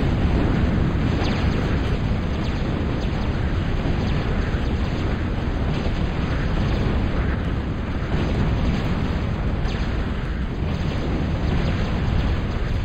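Explosions rumble in a video game battle as skeet munitions shoot down aircraft, a loud continuous low boom and roar with repeated muffled blasts.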